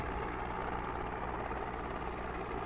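A small helicopter flying in Microsoft Flight Simulator, a steady, loud rotor and turbine drone that runs unchanged for the whole stretch with no talk over it.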